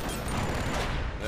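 Dense, loud gunfire rattles continuously in the shooter game Borderlands: The Pre-Sequel, a brief close fusillade filling the whole moment.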